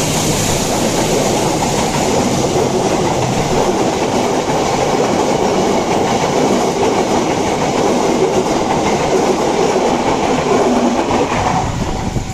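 A diesel locomotive, class CC203, hauling the Baturraden Express train rumbles past continuously, a dense broad roar with wheel clatter that stays loud throughout, no voices.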